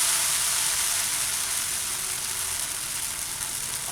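Amboli, a Malvani rice pancake, sizzling as it is turned and sautéed in a pan, a loud, continuous hiss of frying that stays close and steady, easing slightly toward the end, with no talk.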